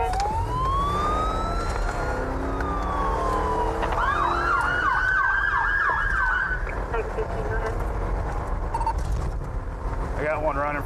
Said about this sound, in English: I hadn't even got my lights and sirens on yet